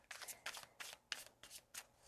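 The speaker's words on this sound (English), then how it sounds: "We are going to shuffle a few times." Tarot cards are shuffled by hand in six quick, regular riffling bursts of crisp paper flutter, close and soft, with no talking.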